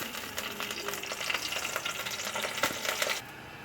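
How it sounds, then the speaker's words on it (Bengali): Dried red chillies crackle and sizzle in hot oil in a kadai, a steady close frying hiss with scattered pops and stirring clinks, no talk. "এর মধ্যে আমি 2টো শুকনো লঙ্কা দিচ্ছি"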